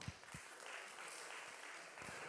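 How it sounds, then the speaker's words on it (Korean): A church youth congregation gives a brief round of applause, heard as soft, distant clapping in a quiet hall. "우리 준혁이에게 박수."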